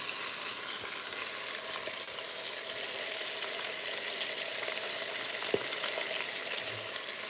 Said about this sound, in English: we got a couple more sides that we're going to cook or sear before we're ready to throw the onions in